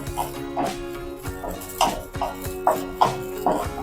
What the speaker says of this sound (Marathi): हलीम भाजले ना की असे फुटतात असा आवाज येतो बघा